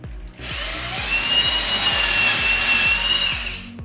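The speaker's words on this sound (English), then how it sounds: "When you're ready, just drill the holes in." A power drill bores shelf-pin holes into the wooden side panel of a kitchen cabinet, a close, loud, continuous whir with a rapid, rhythmic chattering grind and no talk.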